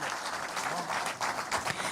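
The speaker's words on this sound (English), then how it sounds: "One more round of applause for party leader SKM." Applause from a political rally audience for party leader Stephen Kalonzo Musyoka (SKM), dense and steady clapping from a large crowd for about two seconds, with voices mixed into it.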